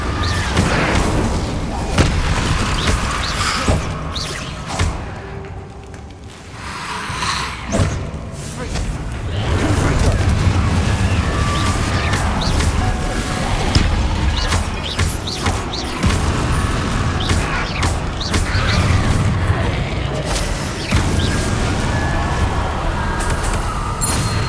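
Confringo spell blasts in the Hogwarts Legacy video game, a run of heavy thuds, slams and booming impacts during a boss fight, dense and continuous under game music and effects, with voices at times.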